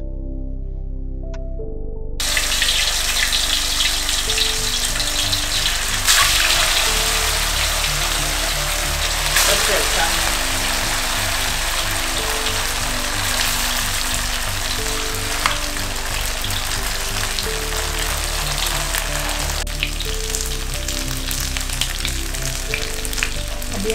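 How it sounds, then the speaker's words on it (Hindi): Soya chaap deep-frying in hot oil, a steady loud sizzle with crackling bursts that starts after a brief quiet moment and continues unbroken, with no talk. "चाप को ऑयल में डीप फ्राई कर लेना है"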